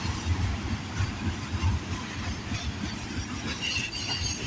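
CN freight train CNQ109, running from Taschereau Yard in Montreal to Thornton Yard in Vancouver, rolls past up close on Canada Day with a steady, loud rumble of wheels and cars, faint squeals riding over the continuous roar.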